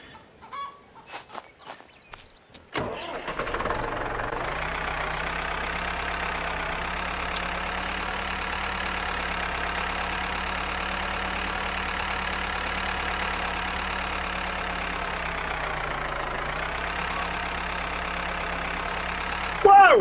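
Farm tractor engine running steadily at a constant drone during a potato harvest, starting after a few seconds of quieter sounds and holding close and loud with a slight dip in pitch near the end.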